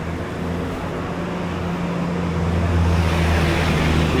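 Traffic flows along a Hong Kong street in Tsuen Wan, with small minibuses among it: a dense, continuous engine rumble and road roar that swells slightly as a vehicle draws near, loud and close.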